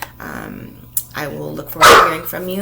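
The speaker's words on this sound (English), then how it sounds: "Sorry about my dog barking in the background there." A pet dog at home lets out a sharp bark or two behind someone speaking close to the microphone, the barks loud and brief amid the talk.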